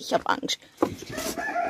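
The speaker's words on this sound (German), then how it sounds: "Das ist ein freilebender Hahn." A free-roaming rooster crows nearby, a drawn-out call following a few spoken words from a person.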